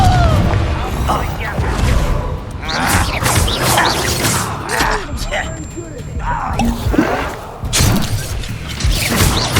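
Spells hit in a Hogwarts Legacy combat fight, making heavy booming and crashing impacts in a dense, loud mix layered under shouted incantations and other speech.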